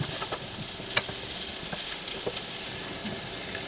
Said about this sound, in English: Give that a quick stir, and they get tossed around in the olive oil there